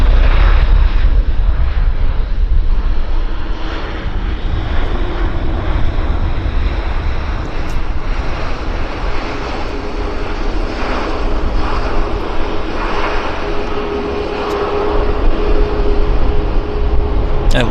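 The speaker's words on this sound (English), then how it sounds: "This is a Westjet. I think it's inbound from Edmonton." A Westjet airliner taxiing at Vancouver airport, a steady loud engine roar with a low rumble and wind buffeting the microphone, continuous throughout with faint tonal whine.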